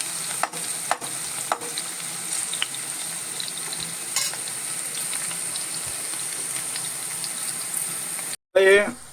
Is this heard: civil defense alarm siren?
no